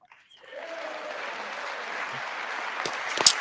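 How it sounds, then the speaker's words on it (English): Members of Congress applauding a presidential address in the joint chamber, a broad roar of clapping that swells in after a quiet start and holds steady, with a few louder sharp claps near the end. "They will clap for anything he says."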